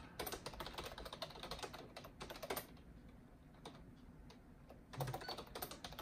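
Rapid typing on the keyboard of an Acer XC-704G desktop running FreeBSD, a busy run of clicking keystrokes, a quieter pause with scattered taps, then another burst of fast keystrokes near the end; no talking.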